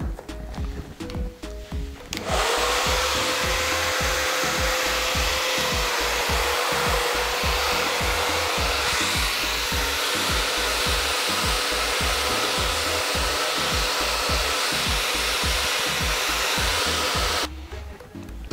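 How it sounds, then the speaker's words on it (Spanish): A hair dryer with a diffuser dries hair in a salon, switching on after a couple of seconds and then blowing with a loud, steady, close roar for about fifteen seconds before cutting off. "Pero como hoy estamos en la peluquería, entonces lo secamos con difusor."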